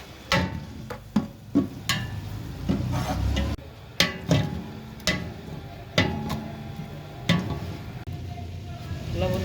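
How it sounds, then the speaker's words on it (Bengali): Onions are stirred in a cooking pan with a spoon, giving repeated scraping and tapping strokes about once a second over a low sizzle. "নাড়া দিয়ে দিই।"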